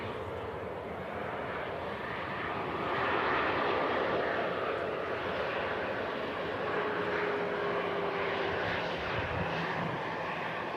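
An airliner taxis off the runway at Manchester Airport after landing, its engines giving a continuous broad roar that swells slightly midway, heard from a distance outdoors with no talking.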